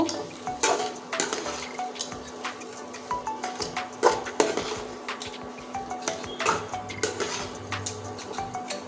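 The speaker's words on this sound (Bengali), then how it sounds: "এবার সুন্দরভাবে নেড়ে নেব" A spatula stirs potato filling in a wok, giving repeated scraping and clinking strokes against the metal in an irregular rhythm, close and fairly loud, with no talking.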